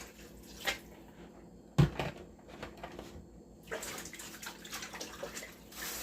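Raw chicken breast and chicken back pieces rinsed with water and vinegar in a sink, giving quiet splashing and running water with a sharp knock near two seconds and steadier washing toward the end.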